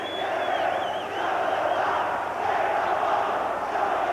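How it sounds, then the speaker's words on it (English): A crowd roars and murmurs throughout at the Boston Garden during a Massachusetts State Hockey Championship game, a steady indoor arena din from a large audience. "Good crowd on hand at the Boston Garden."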